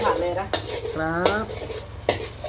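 A child stir-fries egg fried rice in a pan, with sharp, close metal scrapes at uneven intervals, a brief squeaky tone between strokes and a steady low sizzle running underneath.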